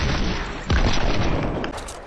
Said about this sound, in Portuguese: Vai tomar um tiro só, Cauê.